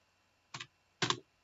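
Two isolated keystrokes on a computer keyboard, crisp and close but quiet, about half a second apart with silence around them.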